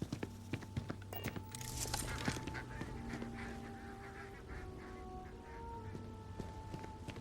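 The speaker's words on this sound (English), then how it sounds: "Some birds around." Birds honk in the Starfield video game, goose-like calls repeating over a steady ambient hum with sustained tones and scattered clicks, moderately loud and without speech.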